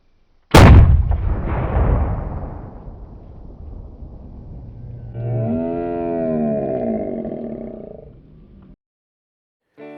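A single loud gunshot cracks close by at an outdoor shooting range, its boom rolling off into a long decaying echo, followed by a low resonant ringing that fades before a brief cut at the end.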